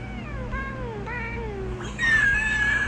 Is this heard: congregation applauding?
no